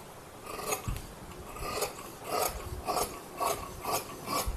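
Scissors cut through blouse fabric in a series of crisp, rasping snips about every half second, close up and fairly quiet, with no voices.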